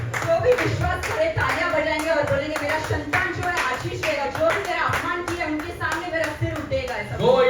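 A church congregation at a Sunday service claps along in a steady rhythm, many hands together, while a voice speaks over the clapping throughout.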